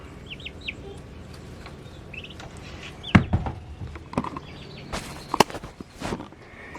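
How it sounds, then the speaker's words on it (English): Young domestic turkeys peep and chirp in short high calls, with some thumps and clucky noises scattered through a quiet barn-like background. "they already make the same noises as wild turkeys make"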